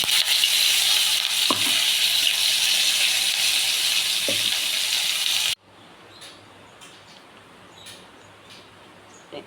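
Cumin seeds and curry leaves fry in oil, sizzling and crackling loudly for several seconds, then dropping abruptly to a quieter, softer simmer with a few faint pops.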